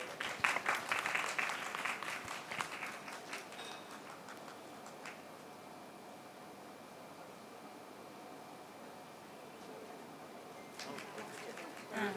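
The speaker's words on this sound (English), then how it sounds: "Please a big round of applause." Brief applause breaks out at a felicitation ceremony, loud crisp clapping for the first few seconds that quickly thins, leaving a quiet room tone before a few claps return at the end.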